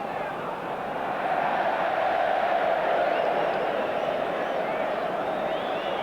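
A large football stadium crowd at an Arsenal versus Chelsea match swells into a loud, sustained roar and groan of reaction to a misplaced pass, a broad continuous wash of voices filling the whole stretch.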